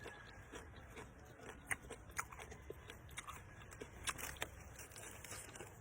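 Crunchy Chinese kangkong (water spinach), dipped in bagoong shrimp paste, is bitten and chewed close up, with soft, repeated crisp crunches over a quiet background.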